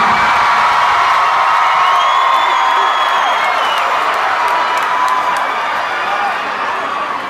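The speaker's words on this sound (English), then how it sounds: "this might be the motherfucking crowd of the trip" A large concert crowd at a show in Melbourne cheers and whoops continuously, a dense, loud roar of many voices that fades slightly toward the end.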